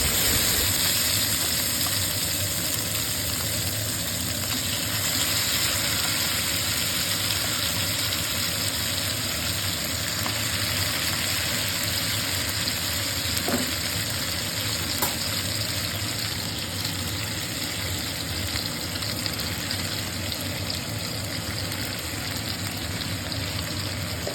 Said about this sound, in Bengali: এইবারে তেলের মধ্যে আমি যে ম্যারিনেট করে রেখেছিলাম মাছগুলো সেগুলোকে একে একে দিয়ে দিচ্ছি